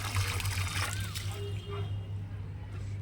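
Water being emptied out of a plastic tub used for storing water for plants: a trickling, sloshing pour that fades partway through, close by, with faint background voices.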